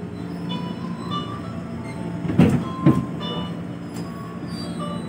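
A KRL Commuter Line electric train pulls into track 7 at Bekasi station in Indonesia. The rumble is steady and rolling, with two sharp metallic clanks of wheels or couplings partway through.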